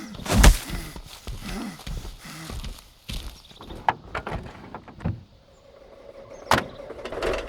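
A vehicle door opens and a passenger climbs in for a wartime audio drama about a werewolf-hunting regiment. There are scattered thumps and clunks, a sharp latch click near the end, and no talk.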